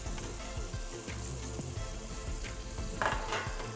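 Vegetables frying in hot oil with chili flakes, soy sauce and black vinegar, a steady crackling sizzle with small popping bursts, louder spattering near the end, and no voices.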